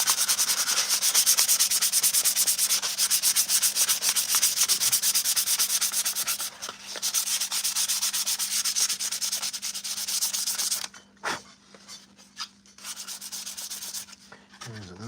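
Hand sanding Bondo glazing spot putty on a Jedi Temple Guard helmet, a steady dense scratchy rasp of abrasive strokes that runs continuously, then breaks into shorter rubbing passes with brief pauses near the end.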